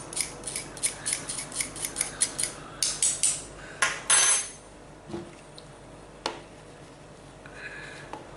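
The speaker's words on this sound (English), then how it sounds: "So they need to be pushed through the sieve. I'm using the back of a spoon." A spoon back scrapes and taps against a metal sieve, forcing parkin ingredients through in a quick run of about a dozen sharp, close scratchy strokes, then a few scattered clicks over quiet room tone.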